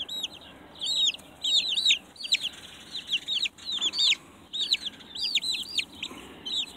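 Thirty-day-old Orpington chicks give high, repeated peeps and chirps in quick clusters, close by and fairly clear over a soft background.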